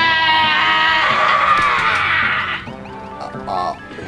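Mario from the video game Mario Party 10 lets out a loud, drawn-out, wavering scream that holds for over two seconds and then trails off into scattered quieter sounds.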